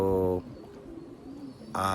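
Young racing pigeons awaited at a home loft in London on an overcast morning give two loud, close, harmonic coos, one at the start and one at the end, with quiet ambience between.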